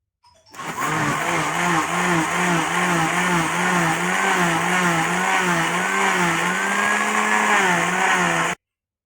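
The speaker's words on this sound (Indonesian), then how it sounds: "dan di blender lagi." A blender whirs loudly and continuously for several seconds with a wavering motor pitch while pulping paper for papermaking, then cuts off abruptly.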